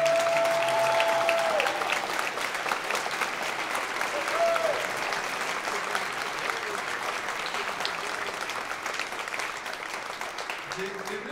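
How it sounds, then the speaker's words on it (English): A large crowd at a high school honor band concert claps steadily in sustained applause that fades slightly toward the end, with a brief tonal whistle near the start. "Could we give a giant round of applause for them?"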